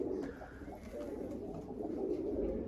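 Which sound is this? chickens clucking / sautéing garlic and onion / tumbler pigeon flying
tumbler pigeon flying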